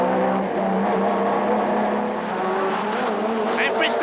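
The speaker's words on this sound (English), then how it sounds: "Behind him, a battle for second between Harvey and Bristow that raged till the last lap." Touring cars racing at the Birmingham Super-prix street circuit in 1989, a continuous loud engine roar of several cars close together, with a higher whine rising near the end.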